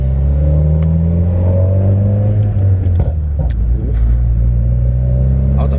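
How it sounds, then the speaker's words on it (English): Subaru WRX with a burble tune accelerating from inside the car, a deep droning engine rumble rising in pitch, then easing off with low pops and crackles. "just drive it up a little bit and just let off the acceleration"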